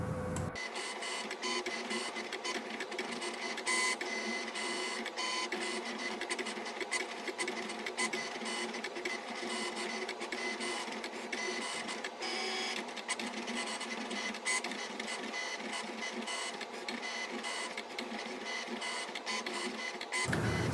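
A vinyl cutting machine slices a white vinyl sheet with a continuous busy whirring and clicking, a printer-like mechanical chatter that runs steadily and close up for twenty seconds with no talking.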